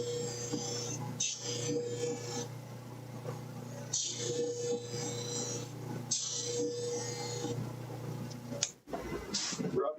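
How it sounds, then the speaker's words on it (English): A motor-driven buffing wheel drones steadily as a knife blade is pressed against it in repeated passes, each bringing a brighter rubbing hiss, with short pauses between passes. "We'll just take it over here to the buffing wheel."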